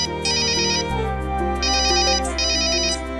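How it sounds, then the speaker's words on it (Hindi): Mobile phone ringtone for an incoming call, a bright electronic melody looping steadily over a low sustained tone, clear and close for about three seconds with no talk. "मम्मी का फोन"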